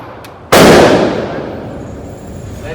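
A single close, loud handgun shot at a shooting practice, a sharp blast with a long decaying echo tail.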